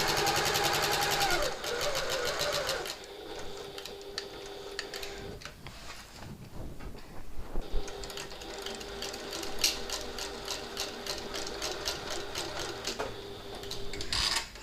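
A sewing machine runs a seam on a fabric hobo bag with rapid rhythmic needle clatter, pausing briefly in the middle and then starting up again, with faint speech in the background.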